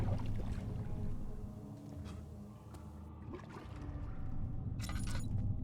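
Water sloshing and splashing below a hole in the horror game Amnesia: The Dark Descent, a steady watery churn with a few sharper splashes near the end, no talk.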